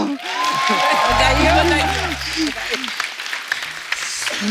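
Studio audience clapping on a comedy show, broad applause under and around loud, expressive talk and a sung or drawn-out vocal line, with cheering voices poking through before the clapping thins out.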